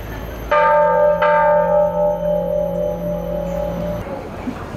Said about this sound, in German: Komm, schlag hier einmal die Glocke, die Bell of Happiness.